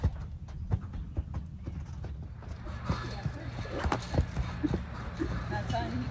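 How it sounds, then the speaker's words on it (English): Hooves of a Tennessee Walking Horse thud in an uneven rhythm as it canters over ground poles in an arena, with a trainer talking at moments over the footfalls. "let's say the word canter and ask you to canter over it"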